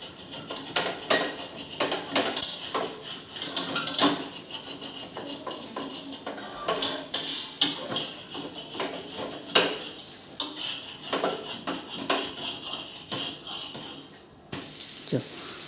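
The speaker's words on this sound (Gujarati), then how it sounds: "3 મિનિટ માટે આપણે એને શેકાવા દઈશું." Green gram-flour pancake roasting in oil on a pan, giving a steady close sizzle scattered with light scrapes and clinks of a spatula and utensils against the pan.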